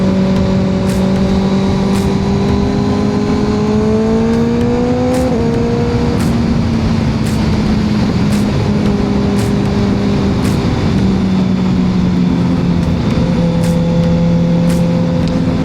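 A Kawasaki ZX6R motorcycle engine drones steadily and close, its pitch rising and dipping as the rider shifts, with faint regular ticks over the continuous roar.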